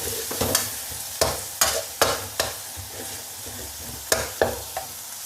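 Spatula scraping and stirring Thai fried rice in a pan over high heat, with irregular bursts of clanging strokes over a steady sizzle, close and fairly loud, with no talk.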